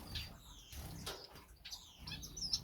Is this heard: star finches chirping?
yes